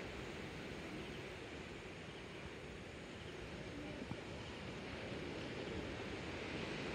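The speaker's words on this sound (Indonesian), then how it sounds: "Pagi-pagi subuh ni syok dengar bunyi ombak" Steady roar of ocean surf washing onto Tanjung Aru's 3rd Beach at dawn, a constant broad wash of breaking waves with no voices.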